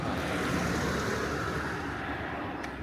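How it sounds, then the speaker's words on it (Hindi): A light wind blowing outdoors on a mountain road toward Spiti Valley, a steady broadband rush buffeting the microphone at an even level throughout, with no voices. "और एक हल्की सी हवा चल रही है"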